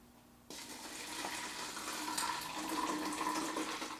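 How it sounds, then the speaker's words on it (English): Water poured into a plastic fly trap until it is about half full, starting abruptly as a close, steady splashing gush that grows slightly fuller over a few seconds. "Fill it up about halfway with water."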